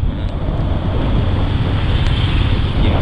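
Strong, steady wind roars over the microphone outdoors on a cold, overcast day in Quy Nhon, a loud, continuous broadband rush with no pauses and no voices.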